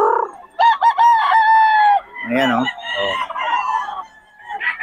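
Roosters kept as quality fighting cocks crow loudly and close by, several long drawn-out calls overlapping with clucks, while someone speaks briefly between them.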